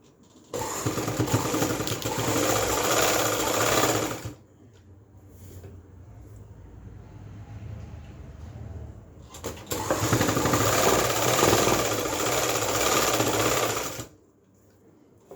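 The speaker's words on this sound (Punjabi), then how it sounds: "ਹੁਣ ਮੈਂ ਦੂਸਰੀ ਸੈਕੰਡ ਸਲਾਈ ਲਾਵਾਂਗੀ" Sewing machine stitching a finishing seam on a kurta slit, two loud, close bursts of rapid whirring, each about four seconds long, separated by a quieter pause with faint handling sounds.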